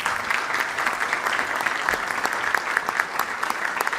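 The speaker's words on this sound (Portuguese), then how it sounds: "a mulher foi aplaudidíssima" Sustained applause from an audience for a speaker, a dense, steady clatter of many hands clapping throughout with no voices over it.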